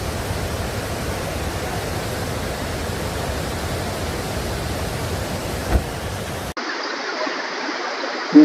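Steady, dense rush of Athirappilly Waterfalls in Kerala fills most of the stretch, then cuts abruptly to a thinner, band-limited hiss near the end.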